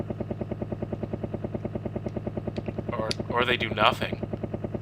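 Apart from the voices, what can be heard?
helicopter rising past a window in a Final Fight 3 video game cutscene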